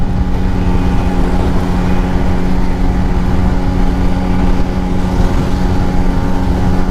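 A Bajaj Chetak scooter rides at top speed, near 80, giving a loud, unbroken engine drone with rushing wind noise throughout and no voices.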